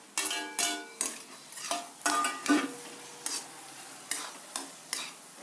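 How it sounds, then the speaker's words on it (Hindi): Fried capsicum is stirred into a tempering in a kadai for kadai paneer, bringing repeated rhythmic scrapes and clinks of a spoon against the pan over a low sizzle. "अब जो हमने कैप्सिकम फ्राई किए हुए थे, मैं उसको तड़के में डाल रही हूँ।"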